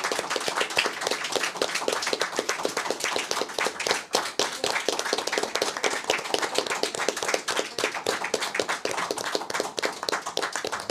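Steady applause with dense, rapid hand clapping fills the whole stretch at a press conference, loud and continuous with no pause.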